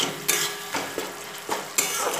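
A spatula scraping and stirring softened tomatoes into spices in a pan for a Bengali fish curry, with several distinct scrapes and clinks in an uneven rhythm over a faint sizzle.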